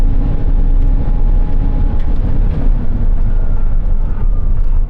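A Tesla Cybertruck pickup launches down a quarter-mile run, a dense, loud whirring road and wind roar that holds steady throughout with no voices.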